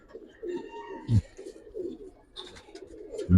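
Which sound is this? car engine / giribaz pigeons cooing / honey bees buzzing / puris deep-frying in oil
giribaz pigeons cooing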